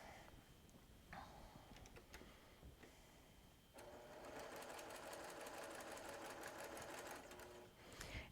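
A sewing machine stitches down a log cabin quilt block seam, starting with a few short bursts, then running in a steady, fast rhythmic whir for several seconds, close and clear with no talk.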